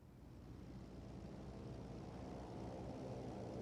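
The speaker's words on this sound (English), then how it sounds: "A dive bomb run." A dive bomber plane attacking in Company of Heroes 3, a steady, faint propeller engine drone that swells slightly as it approaches, with no other sounds over it.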